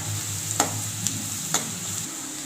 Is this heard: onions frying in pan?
yes